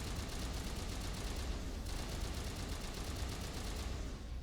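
Rapid, continuous gunfire from walking and shooting in the Mass Effect video game, a dense unbroken fusillade at low overall volume without talking.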